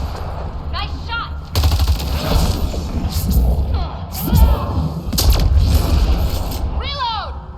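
Gunfire in the video game Mass Effect Andromeda: loud, close bursts of rapid automatic shots and heavy thuds filling most of the stretch, with brief gaps, a whistling whoosh and a voice speaking over the battle.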